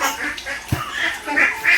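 A few ducks give close, loud quacks and honking calls at feeding time, with a short, sharp low thump partway through.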